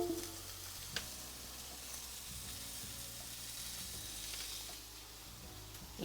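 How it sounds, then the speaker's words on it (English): Food frying in a pan while pork souvlaki and lemon potatoes are cooked, giving a steady soft sizzle and hiss that stays close and even, with a faint clink near the start. "You guys like the ASMR sizzle sounds today?"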